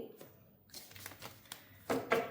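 Osho tarot cards are shuffled and drawn in soft, uneven riffles and flicks, quiet and close, with a sharper burst of card noise at the end.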